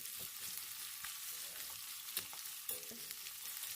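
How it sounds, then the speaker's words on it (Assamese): Chopped onions fry for mutton curry, a quiet steady sizzle with intermittent scraping stirs and a few sharper clinks of the utensil against the pan. "পিঁয়াজখিনি ৰঙচুৱা হোৱালৈকে আমি ভাজিব লাগিব।"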